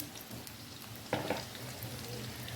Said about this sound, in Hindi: तो अब यहाँ पे मैं इन पोटैटोज़ को अच्छे से करूँगी फ्राई